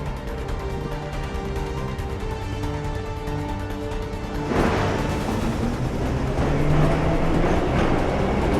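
A metro train in Assassin's Creed 3 rolls along with a steady low rumble and a few sustained tonal whines, growing louder and rougher about halfway through as the carriage noise swells.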